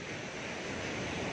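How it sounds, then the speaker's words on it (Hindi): Ocean waves wash in at Golden Beach in Puri, a steady broad roar of surf and wind filling the whole moment with no break or voice. "मैं अभी समंदर किनारे हूँ गोल्डन बीच के"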